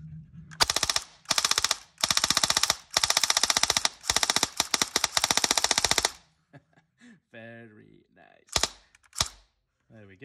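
Upgraded Tokyo Marui MP7 airsoft gun test-fired indoors, several rapid full-auto bursts of sharp mechanical clatter close by, then two short single shots after a brief pause, with someone speaking briefly between them.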